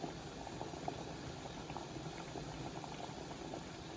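Water bubbles at a steady rolling boil in a rice steamer, a continuous dense gurgling hiss heard up close with no talking.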